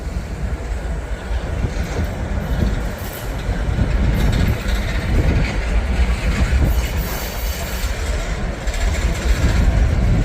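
A Union Pacific freight train rolls past in St. Paul with a loud, continuous rumble of wagons, rhythmic wheel clatter and occasional high squeals from the wheels, close by and sustained throughout.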